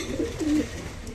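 Female Jabra pigeon cooing close by, a couple of soft, low throaty coos in quick succession over faint background noise.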